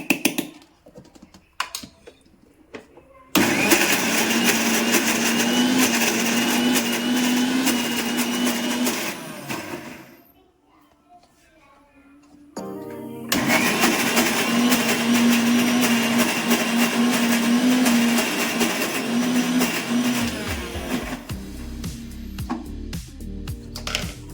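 A mixer grinder whirs loudly while grinding raw mango chutney, a dense motor roar that runs for several seconds, cuts out briefly, then starts again and continues to the end, close by.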